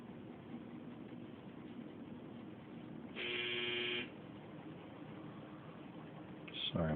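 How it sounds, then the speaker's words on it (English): A clothes dryer's steady electronic buzzer tone sounds for about a second over a low background hum, followed by a shorter second beep near the end. "That was the buzzer for the dryer."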